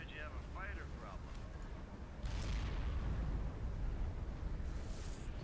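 A Titan warship unleashes a cannon salvo in Sins of a Solar Empire, the heavy booming blasts rising sharply over a continuous rumbling space-battle din, with short electronic chirps at the start.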